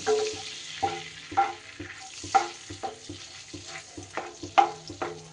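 Dry red chillies sputter in a mix of butter and ghee in a pan, giving a soft sizzle broken by repeated clicking pops and clinks of a spoon at an irregular rhythm.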